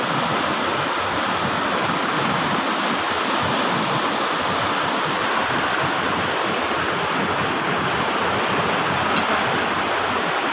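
Loud, continuous roar of rushing flood water, a dense unbroken torrent close by that fills the whole clip without pause.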